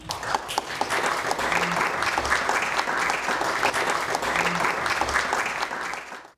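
Audience applause welcoming author Paul Bernhagen at a meet-the-author event, a steady roomful of clapping that holds evenly throughout and fades at the very end.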